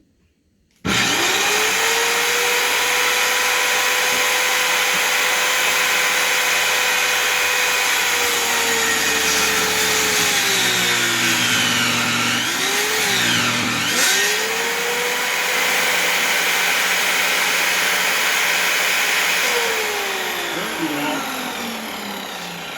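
A homemade table saw drones loudly and steadily once switched on, close by. Its whine dips in pitch a few times as the blade takes on load.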